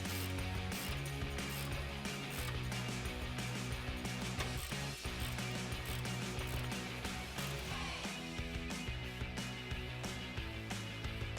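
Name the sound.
tightening exhaust nuts with a 24mm socket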